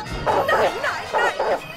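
A dog gives a quick series of about five yappy barks and whimpers, close and loud, while a person talks over them.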